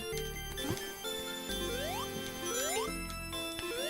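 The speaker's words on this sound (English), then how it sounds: "I'll tell you what's the most annoying thing is those flipping bells." Bell bumpers in the Sonic the Hedgehog 1 pinball-style stage ring out repeatedly, bright metallic dings with rising and falling tones over steady game music, no talk.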